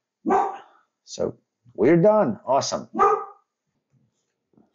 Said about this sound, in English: Excuse my dog. She is sensing a mailman.